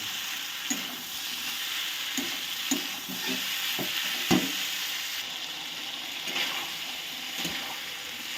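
Okra sautéing with spices in a pan, a soft continuous sizzle broken by repeated scraping knocks of the spoon against the pot, fairly quiet and close, with no voices.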